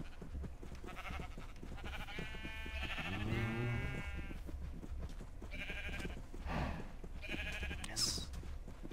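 Several video-game sheep bleat in turn, their drawn-out wavering calls coming one after another at moderate volume over soft background thuds, with a brief high chirp near the end.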